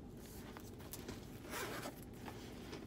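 A small handbag zipper pulled along in a few quick, quiet strokes, close by with a faint rasping texture.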